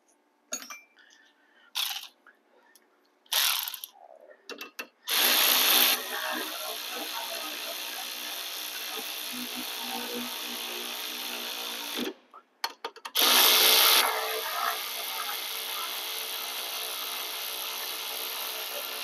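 Bolts on a Spec Miata race car's front brake caliper are run down with a power ratchet, short loud whirring bursts first, then a long steady mechanical drone, a pause, and another sustained run.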